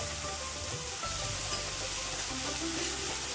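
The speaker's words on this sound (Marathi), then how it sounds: "आता हे छान मऊ होईपर्यंत आपल्याला परतून घ्यायचं आहे" Tomatoes and masala being sautéed in a pan for masala pav give a constant, even sizzle of frying, close and unbroken throughout, with no voices.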